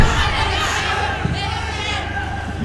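Academy players in the stands at a football match between Guardian Angel SC and SESA FA roar and cheer wildly, a dense, sustained crowd din throughout.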